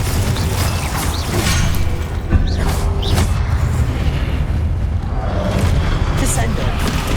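Confringo fire spell explosions in the video game Hogwarts Legacy, booming blasts with crackling bursts over dense battle noise and spell effects, loud and continuous with a spoken incantation mixed in.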